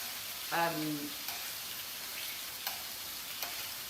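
A brief burst of sizzling from meat frying in an overcrowded pan during Chinese cooking, short and fairly quiet, then fading to a low hiss with a few faint clicks.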